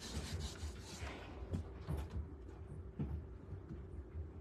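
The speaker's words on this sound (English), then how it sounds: "all I do is rub this back and forth" A felt-backed tool rubbed back and forth under pressure across card while making a Christmas card, a soft continuous scraping with several firmer strokes, close and fairly quiet, with no talk.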